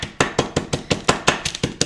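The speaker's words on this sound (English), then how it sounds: "I'm gonna take this hammer and I'm gonna literally bash them up right here until it's powder" Hammer bashing dried herbs wrapped in paper into powder, about a dozen sharp, evenly spaced thuds in steady rhythm, loud and close with no talking.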